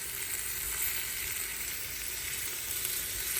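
Onions fry in oil inside a clay pot, an even, moderately quiet crackling sizzle that holds steady with faint stirring beneath it.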